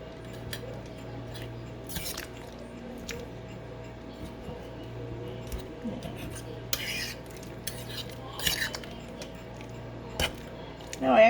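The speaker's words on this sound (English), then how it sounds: "if you smush down the sweet potatoes, it's making it look thicker" Sweet potato chunks being smushed down in a crockpot ham and sweet potato stew, giving soft scraping and clinking of a utensil against the pot in scattered bursts over a low steady hum.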